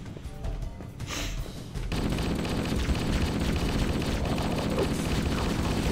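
A plasma rifle fires in a first-person shooter game, a dense rapid stream of loud blasts and crackles that starts sparse then becomes a continuous barrage for several seconds.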